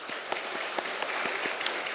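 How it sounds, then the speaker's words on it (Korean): A church congregation gives a missionary family a big round of applause, a dense, even wash of many hands clapping at moderate volume, with a few sharper individual claps standing out. "우리 하상일 선교사님 가정을 위해서 저 뒤에 앉아 있는데 우리 큰 박수로 위로를 해주시기 바랍니다"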